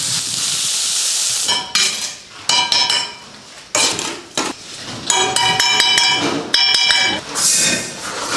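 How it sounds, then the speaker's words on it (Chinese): Fish head dropped into a hot wok to fry, with hissing sizzle interrupted by metallic clanks and scraping from a utensil against the wok, near and fairly loud. "鱼头下锅，这个鱼头要经得烧的"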